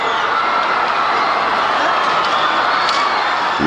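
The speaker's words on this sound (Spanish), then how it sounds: "La multitud no aplaudía, le abucheaba" A large crowd at a Bucharest rally for Ceausescu boos and shouts, a steady dense roar of many voices held at an even level throughout.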